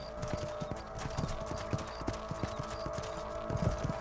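A horse's hooves clip-clop steadily at a trot while being ridden in Red Dead Redemption, the regular beats clear and close over a soft ambient background.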